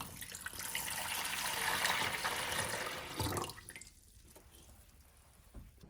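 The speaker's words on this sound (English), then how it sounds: "You're going to fill it up with water." Water pours steadily into the reservoir of a portable ice machine, a loud continuous splashing rush that tapers off after about three seconds, leaving a few faint drips and quiet room tone.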